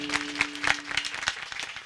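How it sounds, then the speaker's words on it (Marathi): An audience at a lively Marathi kirtan claps for two chopdars, a brisk burst of hand claps at moderate distance with no one speaking over it. "दोघंही चोपदारांसाठी जोरात टाळी वाजा"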